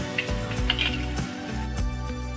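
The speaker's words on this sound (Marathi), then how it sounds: "अशा प्रकारे सर्व भजी मी तळून घेते" Corn bhaji fritters fry in hot oil with a continuous near sizzle, broken by soft clinks and bubbling bursts, alone and without voices.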